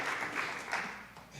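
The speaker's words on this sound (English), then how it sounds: "It's okay for you guys to applaud that." An audience applauds at a talk, giving a brief burst of clapping that fades over about a second and a half, with a voice faintly present.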